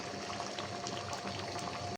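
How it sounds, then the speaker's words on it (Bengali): Meat sautéing (kosha) in a pot for a bachelor-style home meal, a steady dense sizzle and bubbling hiss running continuously and fairly loud throughout, with no voices. "এই যে মাংস কষানো চলতেছে, কষানো হয়ে যেতেছে"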